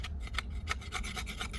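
An Ontario RAT knife scrapes wood shavings in quick, rhythmic rasping strokes, about eight close dry scrapes in under two seconds, quiet and without any voice.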